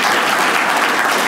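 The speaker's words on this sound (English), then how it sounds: "Round of applause to her." Audience at a health foundation event applauding a vice president, a short dense burst of clapping from a nearby crowd.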